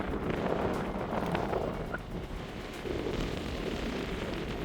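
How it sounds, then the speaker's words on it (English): Strong wind roars and buffets the microphone on the summit of An Stùc in Scotland's Ben Lawers range. The blast is continuous and loud, with gusts swelling and easing. "It is quite windy."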